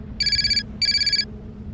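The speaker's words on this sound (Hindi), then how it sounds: "कनक का फोन बजा।" A mobile phone rings twice, two short bright electronic bursts separated by a brief pause, loud and close.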